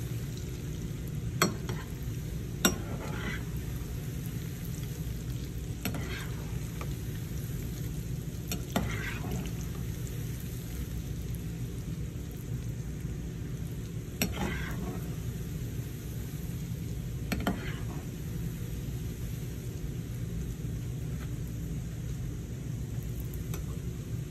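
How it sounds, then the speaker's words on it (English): Peanut butter chinchin dough frying in hot oil, a steady dense sizzle throughout, with occasional scraping stirs at irregular intervals, close and continuous. "So I'm just going to let it fry till it gets that golden brown color."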